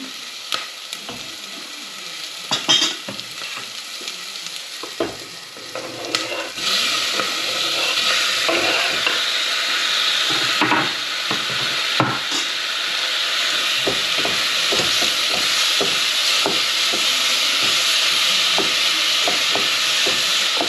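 Aubergine pieces go into a hot pan with a few knocks and clatters, then settle into a loud, continuous frying hiss that holds steady for a long stretch with occasional stirring sounds.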